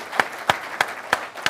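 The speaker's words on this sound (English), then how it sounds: "Let's give each of them a round of applause as I welcome them." Studio audience at a television panel show clapping in sparse, evenly spaced bursts, about five separate loud claps in steady rhythm rather than a full continuous ovation.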